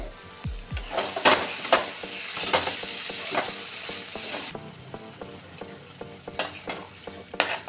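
Meat with spices and whisked yogurt is stir-fried on a low gas flame, with repeated scraping spoon strokes against the pan over a soft steady sizzle, close by.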